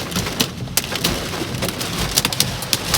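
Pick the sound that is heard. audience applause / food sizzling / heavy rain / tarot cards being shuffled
heavy rain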